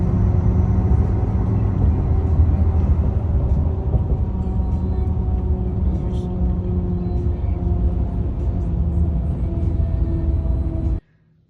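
Predator Mutant X-RT mud tires rolling on the road, a loud, steady low roar and hum heard from inside the moving vehicle, with a tonal whine layered over it for about eleven seconds before it cuts off abruptly.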